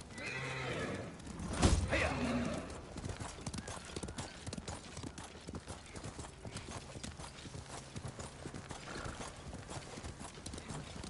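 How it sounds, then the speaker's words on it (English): A horse in Ghost of Tsushima neighs once, then its hooves clip-clop steadily at a moderate pace, close but fairly quiet, continuing throughout. "Horse!"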